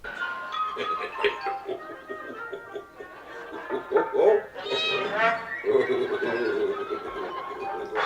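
A cat meows several times amid a scene from the 1998 film Apt Pupil, with voices and background sound around the drawn-out cries.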